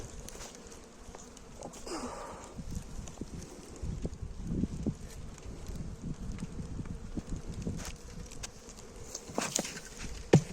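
Honeybees swarm around an opened hive as its cover is closed while light rain begins, making a steady, close buzzing hum with scattered knocks and clicks from the hive work.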